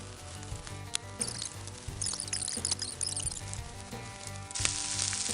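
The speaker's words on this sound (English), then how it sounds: "So now we're going to fry the spinach" Spinach frying in a pan for a keto pizza meat dish gives a steady close sizzle with crackling bursts, rising louder toward the end.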